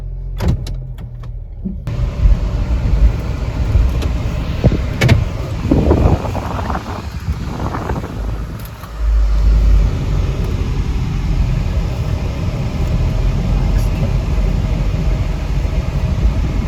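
A Honda car starts up and is driven after a battery change, with a steady engine and road rumble inside the cabin, a few clicks and thumps, and a brief whir early on.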